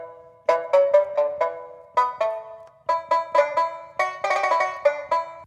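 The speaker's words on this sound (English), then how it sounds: "This is the Sanxian." Sanxian voice played on a Greaten AP500 Pro electronic wind instrument: bright plucked-string notes in a quick melodic run, with several rapid repeated plucks and short pauses, clear and alone.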